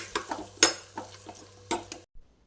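Coriander leaves stirred into hot oil in a pan with prawns: a handful of sharp spatula scrapes and clanks over a faint sizzle, then sudden quiet.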